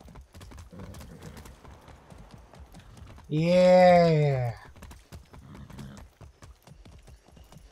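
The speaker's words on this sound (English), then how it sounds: "Be nice, horse." Horse hooves clip-clop in a steady rhythm in the Far Cry 6 video game, broken midway by a loud, drawn-out whinny, with a voice speaking briefly.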